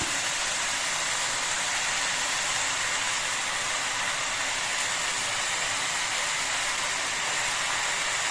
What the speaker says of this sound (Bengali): পটল পাতা দিয়ে আবার কিছুক্ষণ ভেজে নিতে হবে